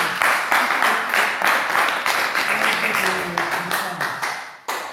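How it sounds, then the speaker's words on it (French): A church congregation claps and applauds in praise of the Lord, a dense, steady wash of many hands held close for several seconds, with voices mixed in, before it breaks off abruptly near the end. "applaudissons pour notre Seigneur."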